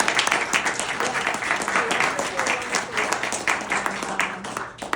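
Applause from residents at a town meeting, thanking local volunteers: a sustained wash of clapping from a mid-sized crowd across the whole stretch, with some voices mixed in underneath.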